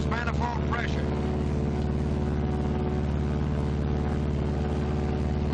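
Twin piston engines of a 1944 B-26 airplane in flight, a loud continuous droning hum with steady throbbing tone throughout, while someone narrates over it.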